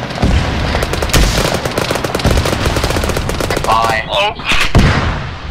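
Arma 3 gunfire rattles out in rapid, loud automatic bursts with scattered heavier shots over several seconds, and a voice speaks briefly near the end.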